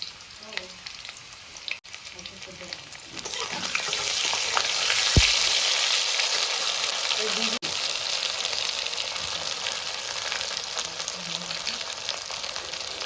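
Potatoes sizzle and crackle steadily in hot oil, the frying swelling louder for a moment as cumin, ginger and dried chili paste goes in, with a few clinks of a utensil.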